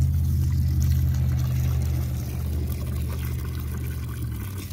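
Garden plants being watered, with a steady broad wash of pouring water running close and fairly loud for the whole stretch under a deep low hum, easing slightly about halfway through.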